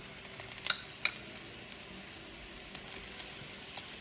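Ground beef goes into a pan of frying onions for stuffed peppers, producing a soft, fairly quiet sizzle with a few brief scraping stirs near the start and a steadier hiss afterward.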